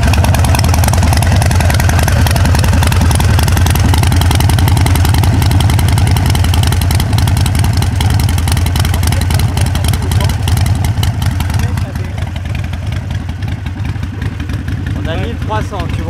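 A warm 1300 cc Harley-Davidson motorcycle engine idles loudly and steadily up close with a deep, even throb, a voice talking briefly over it near the end.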